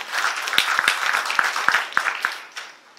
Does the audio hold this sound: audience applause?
yes